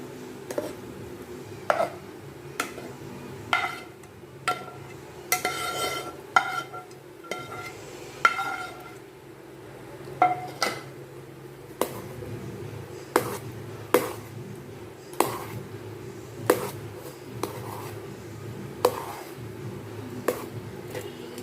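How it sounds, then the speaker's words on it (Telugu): Fried tempering being mixed into cooked rice in a pot for mango pulihora, heard as a regular series of distinct utensil knocks and scrapes against the pot, roughly one per second, over quiet background with no talk. "ఇప్పుడు ఈ తాలింపు అంతా ఈ అన్నంలోకి మిక్స్ చేసుకుందామండి"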